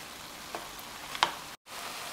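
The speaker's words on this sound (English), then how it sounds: "You might want to turn the heat up a little bit more so you can start to hear it sizzling." Scrambled eggs frying in a hot pan for a cauliflower fried rice with pineapple, giving a soft, steady sizzle with a couple of brief louder crackles and stirring scrapes, then a short cutout.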